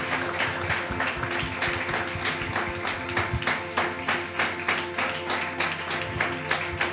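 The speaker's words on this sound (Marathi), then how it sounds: "टाळ्या वाजूयात, प्रभूला धन्यवाद देऊयात." A church congregation at a Sunday service claps together in a fairly steady rhythm, the sound moderately loud and layered over a background of music.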